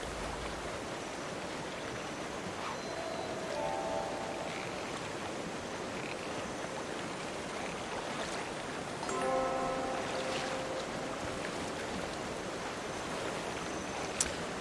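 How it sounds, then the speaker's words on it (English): A waterfall in the video game Guild Wars 2, in Kryta, gives a steady, faint rushing wash of water that continues without a break, with a few soft tonal blips scattered over it. "Near some Guild Wars 1 style waterfalls there with a very loud noise"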